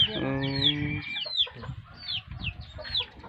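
A Ketawa laughing chicken lets out a rapid, rippling string of calls in a quiet village, followed by softer clucks and chirps nearby, with no talk over it.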